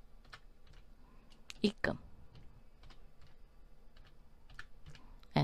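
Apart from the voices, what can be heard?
typing on a computer keyboard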